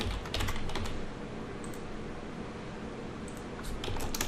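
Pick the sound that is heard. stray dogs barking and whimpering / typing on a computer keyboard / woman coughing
typing on a computer keyboard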